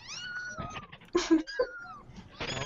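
Kitten meowing in a live stream, several short high cries bunched in the middle, close and fairly loud, with faint background voices.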